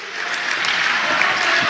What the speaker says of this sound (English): As both teams give her a round of applause